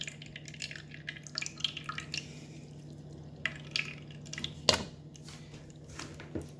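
Thick double-fermented kefir straining slowly through a strainer makes sparse wet drips and soft squishy splats, close and quiet, spread unevenly under a low steady hum.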